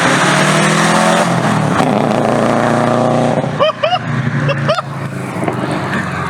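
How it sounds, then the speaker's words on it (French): A Toyota Yaris drives on a race track, its engine droning loudly and steadily before easing off, followed by a few short tire squeals or chirps over the fading motor. "On commence en douceur avec la Yaris et on sent tout de suite qu'on est dans une voiture récente."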